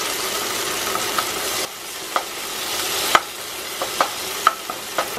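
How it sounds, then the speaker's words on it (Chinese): Pixian doubanjiang bean paste is stir-fried in a wok for homemade hotpot, a steady sizzle broken by several sharp clacks of the spatula against the metal, close and loud, with no talking. "放入郫县豆瓣酱，好，继续翻炒。"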